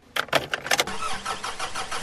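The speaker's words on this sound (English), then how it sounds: "let me go start up my car then." A car engine cranks in a few quick starter bursts, then catches and settles into a steady idle, close by and fairly quiet.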